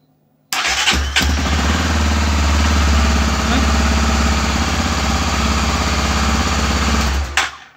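A Honda XRE 300 motorcycle fires up abruptly and settles into a loud, close, steady idle with a throbbing low rumble, then cuts off at the end.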